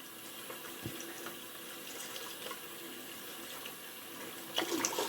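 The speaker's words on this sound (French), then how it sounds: "Alors, je mets de l'eau plutôt tiède. Hein, on nous dit à l'eau tiède. Donc, on va venir rincer tout ça." Lukewarm tap water runs steadily to rinse hair at a sink, a soft continuous wash with a few faint splashes and a brief louder gush near the end.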